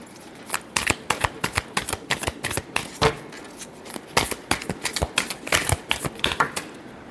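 Tarot cards are riffled and shuffled by hand in quick, uneven bursts of crisp papery flicks and slaps, close and fairly loud, with no talking over them.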